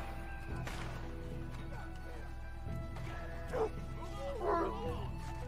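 A dog barks and yips in Red Dead Redemption, a few sharp barks and whimpers over a low steady game ambience, with someone talking in between.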